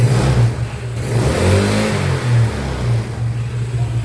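A Yamaha Mio carburetor motorcycle engine revs hard at full throttle close by, its loud steady drone rising and falling in a few surges over the whole stretch.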